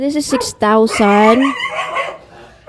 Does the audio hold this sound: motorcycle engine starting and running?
no